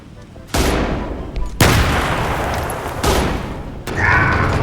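Gunfire in the video game PUBG: several loud booming shots in quick succession, each with a long rolling tail, close and dominant throughout.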